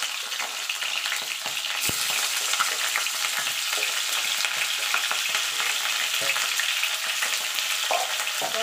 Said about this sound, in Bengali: এই তেলে আমি কপিগুলো ভেজে নেব।